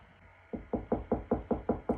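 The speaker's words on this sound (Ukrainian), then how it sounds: "Дітки, ви чуєте, до нас хтось стукає." Seven steady knocks on a door, evenly spaced and fairly close, in an otherwise quiet room.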